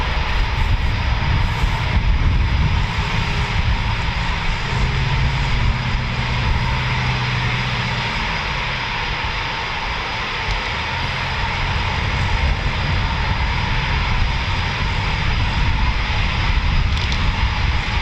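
Eurofighter Typhoon FGR4 jet engines run steadily at RAF Coningsby's QRA station, a loud, continuous roar and whine holding throughout with little change.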